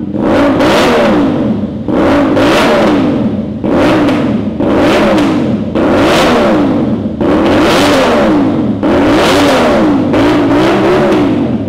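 A 2024 CF Moto 450SR-S motorcycle with a 270-degree crankshaft and an SC Project CR-T exhaust with link pipe revs loudly and close, in about six rising and falling blips separated by brief drops.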